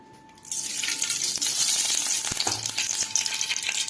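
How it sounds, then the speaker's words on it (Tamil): Oil poured into a hot kadai for masi dried fish thokku, starting with a quiet moment and then a sudden, loud, sustained hissing sizzle that keeps going close by with a few small clinks and no talking. "ஒரு கடாயை அடுப்பில் வச்சு கடாய் சூடானதும் நம்ம எடுத்து வச்சுருக்க எண்ணெய் இது கூட சேர்த்துடலாம்"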